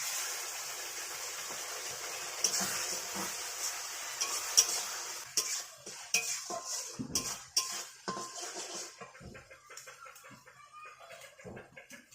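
Onion, ginger and garlic paste going into a hot pan for chicken rezala: a high hiss of frying, then repeated scraping and clinking of a spatula stirring against metal, close and busy.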